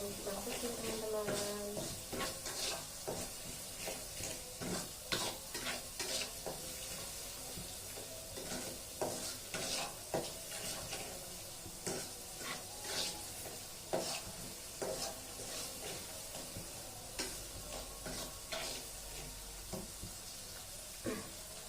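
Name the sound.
seasoning frying in a wok for fried rice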